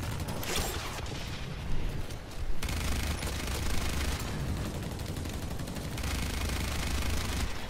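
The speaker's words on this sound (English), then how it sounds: "I'm shooting." Gunfire in the video game Blacklight Retribution: dense rapid bursts of shots and mechanical clatter, loud and continuous, with no talking.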